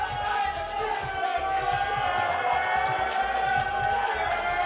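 A crowd cheers on its players at a Dengeki Bunko Fighting Climax: Ignition top-eight fighting game tournament, a sustained moderate roar of voices heard from a distance with no clear speech over it.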